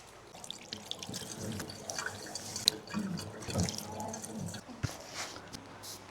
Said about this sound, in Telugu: I will wash direct with water okay వాటర్తో కడిగేసుకుందాం మనం